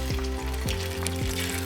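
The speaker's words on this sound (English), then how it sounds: "you want to make sure you get a bit of a sizzle, get it nice and hot before you add your prawns here" Shell-on prawns with tails left on sizzle in a smoking-hot oiled pan, a steady loud frying hiss running throughout beneath sustained tonal sounds.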